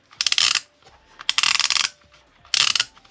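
Small plastic gears inside a Mattel action figure toy rattle in three rapid ratcheting bursts meant to imitate machine gun fire, loud and close with short pauses between.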